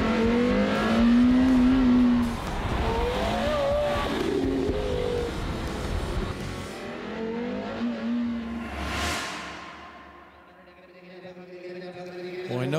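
A high-revving car engine with an 8,200 rpm redline climbs quickly in pitch, backs off and revs again at an auction block, loud and close, with a crowd and voices under the engine.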